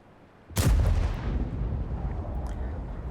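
A single heavy artillery shell blast in the World of Tanks game, a sharp loud boom followed by a long rumbling decay.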